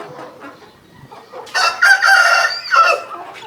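A rooster gives one loud, close crow about midway through, a long wavering call with a short break near its end, after a few soft clucks.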